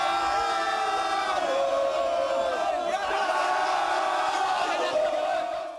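Atlético Mineiro supporters chant and roar together in a packed stadium crowd, one dense sustained wall of voices that stays loud throughout with no pause.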